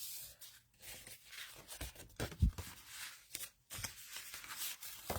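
Paper from a paper craft kit folded and creased with a bone folder, giving soft scraping and rustling strokes with a few sharper crackles, close and quiet with no talking.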